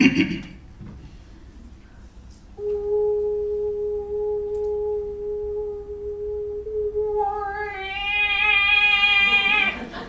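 A voice hums a long, pure, steady tone that holds for several seconds, then slides up into a brighter, buzzier pitch; a person imitates a sine wave.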